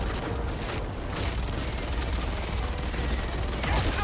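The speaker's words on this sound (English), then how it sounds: "I think the heavy machine gun, minigun rounds, is enough to make up for it." Heavy machine gun minigun firing in Helldivers 2, a dense continuous roar of rapid rounds mixed with blasts and debris, loud and close throughout.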